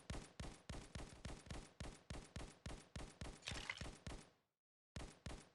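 Rapid, evenly spaced gunshots from an upgraded gun in an arcade idle mobile game, a long rhythmic burst of about twenty sharp reports that stops for a moment, then resumes.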